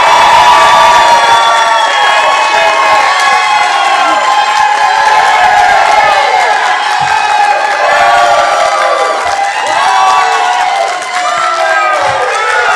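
Large debate audience cheering and applauding as a Republican gubernatorial primary candidate in New Jersey takes the stage; dense, loud crowd roar with whoops and shouts sustained throughout, no speech over it.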